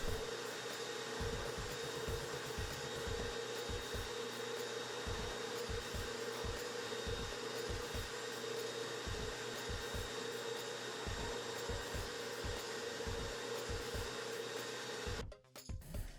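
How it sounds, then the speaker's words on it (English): A power drill with a small bit whirs steadily through wood for a long stretch, with soft rhythmic knocks beneath the motor's hum, stopping abruptly at the end. "Now, using a smaller drill bit, I drill all the way through."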